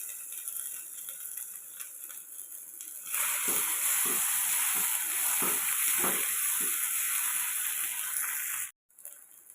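Steady hiss of onions frying in a pan, growing louder and denser partway through with soft scraping bursts, then cutting off abruptly near the end; no talking.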